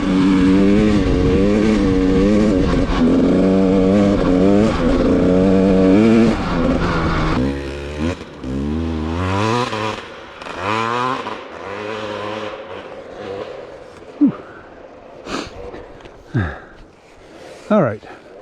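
Dirt bike with added suspension sag riding through soft snow: a loud, close engine drone with shifting revs and repeated throttle swells, fading into quieter intermittent bursts toward the end.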